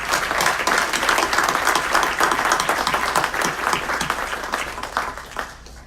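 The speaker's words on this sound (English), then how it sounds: "Please give it a round of applause" A large audience at a city council meeting claps steadily, a dense, loud wash of applause sustained throughout before thinning slightly toward the end.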